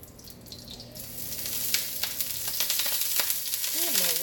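Steady sizzling of pork chops on a hot oiled grill, rising in intensity, with occasional sharp crackles and pops and a few clinks near the end.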